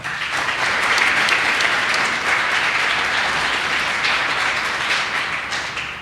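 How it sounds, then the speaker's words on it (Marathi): A church congregation applauds loudly and steadily for the young people, a dense sustained wash of many hands clapping that tapers slightly at the end. "सगळेजण जोऱ्याने टाळ्या वाजवा"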